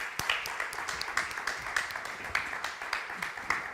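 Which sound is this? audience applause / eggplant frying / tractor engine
audience applause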